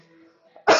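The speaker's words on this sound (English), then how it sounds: "Sorry, still a little bit of a cough." A single short, sharp cough bursts out near the end after a quiet stretch, close and loud.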